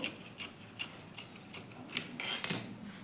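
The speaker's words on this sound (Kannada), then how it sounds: "ಫಸ್ಟ್ ಲೈನಿಂಗ್ನ ನೀಟಾಗಿ ಸಮವಾಗಿರೋ ಥರ ಕಟ್ ಮಾಡ್ಕೋಬೇಕು" Scissors snipping through blouse lining fabric, a series of short crisp cuts spaced roughly every half second, quiet and close with no voices.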